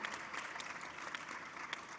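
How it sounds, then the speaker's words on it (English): Audience applause at the National Women's Summit & Expo 2023, a steady wash of clapping from a large crowd that carries evenly through the whole stretch without any voices on top. "You want to clap for that as well."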